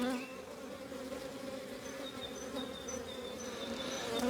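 Honey bees buzz densely around an open beehive during a box swap, a steady close hum with individual bees whining past, continuous throughout and without talk.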